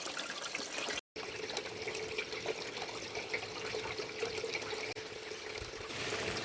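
Water rushes steadily down a gold sluice while high banking rich pay dirt, a continuous close splashing wash with one brief dropout near the start.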